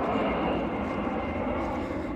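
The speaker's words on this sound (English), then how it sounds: "Airplane. There it is." An airplane flying overhead during an outdoor walk gives a steady, broad engine roar that holds at an even, fairly loud level throughout.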